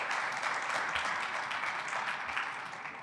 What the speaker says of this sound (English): that is deserving of a round of applause